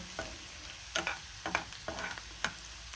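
A vegetable curry of brinjal and drumstick fries in a pan as a spoon stirs it, producing a soft steady sizzle broken by several distinct scraping strokes and clinks.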